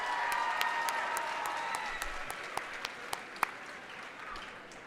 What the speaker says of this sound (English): Let's give a huge round of applause to our judge and timekeeper, Coach Candell, and our reader, Miss Lane.